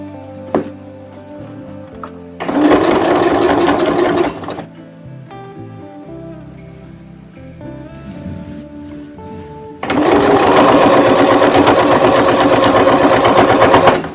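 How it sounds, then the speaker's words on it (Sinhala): A sewing machine stitches a washable cloth diaper with elastic, running in two loud, steady bursts with a quieter pause between them, close by and with no talk over it. "කොටසින් කොටස මහ ගන්න."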